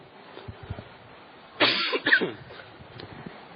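A couple of close coughs in quick succession, harsh and throaty, from a speaker at a microphone during a sermon, over a faint background of room noise.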